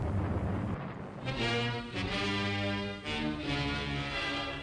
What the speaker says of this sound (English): This explosion on August the 29th, 1949 marked a terrifying new chapter in the emerging Cold War.